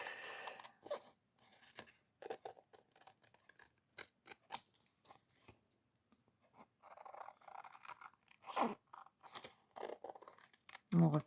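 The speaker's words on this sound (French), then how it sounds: "je pense que je vais plutôt découper" Scissors snip through a Gelli plate paper print to cut out a motif, producing a run of close, crisp cuts and paper rustles in irregular bursts, with a voice speaking quietly at times.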